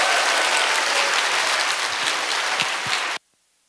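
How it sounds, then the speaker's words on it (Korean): A church revival crowd applauds warmly and steadily, a dense wash of clapping that stays loud throughout before cutting off abruptly near the end. "뜨거운 박수로 맞이해 주시기 바랍니다."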